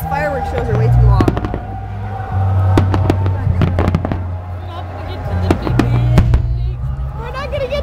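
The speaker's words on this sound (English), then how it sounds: "These fireworks shows are way too long." Independence Day fireworks show exploding outdoors, loud sharp bangs and crackling bursts in irregular succession over a continuous rumble, with people talking throughout.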